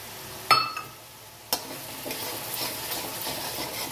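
Cream is stirred into a frying curry. Two sharp utensil knocks come first, then a soft, steady sizzle with light stirring scrapes.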